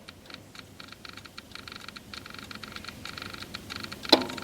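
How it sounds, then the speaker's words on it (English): A Mahindra tractor's glow plug relay ticks faintly and steadily, then gives one sharp, louder click near the end, with no talking. "you heard that glow plug relay"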